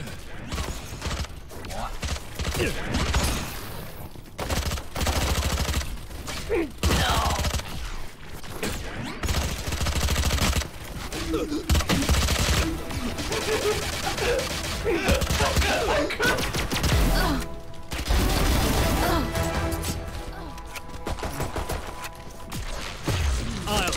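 Rapid gunfire from a full magazine emptied in the shooter game Valorant, a dense stream of shots running through most of the stretch, with people talking and reacting over it.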